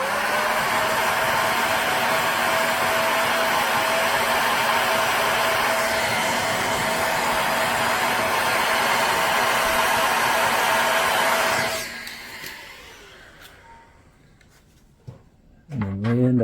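A heat gun preheats the cracked plastic of a holiday Frosty blow mold during a repair, blowing a loud, steady hiss and roar with a faint whine, then switching off and spinning down, followed by a few quiet clicks.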